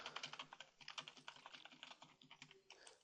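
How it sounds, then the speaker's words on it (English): Rapid, quiet computer keyboard typing during a game, with dense clusters of sharp key clicks tapping in quick uneven bursts close to the mic, no voices. "the typing gets kind of annoying"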